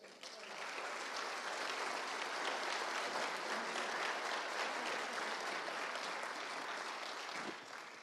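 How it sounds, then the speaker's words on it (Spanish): Sustained, loud applause from an audience at a cannabis summit inauguration, dense and even throughout before tapering at the very end. "un aplauso también, además del abrazo"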